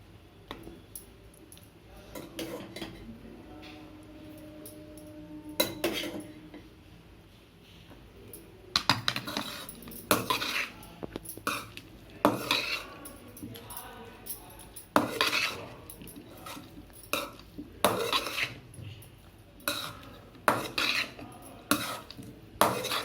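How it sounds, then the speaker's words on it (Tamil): Cooked rice is stirred into egg fried rice in a pan, with a spatula scraping and clanking against metal in irregular bursts that get busier and louder as the stirring goes on. "இப்போ சாப்பாடை போட்டு கிளறிக்கலாம்"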